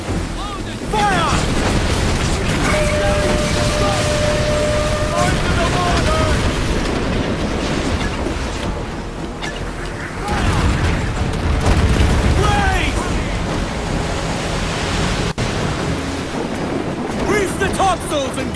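Ship cannon broadside in the naval game Assassin's Creed Black Flag, deep booming blasts rolling under wind, waves and a shouting crew, loud and sustained across the scene.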